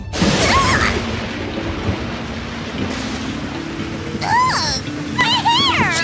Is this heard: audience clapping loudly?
no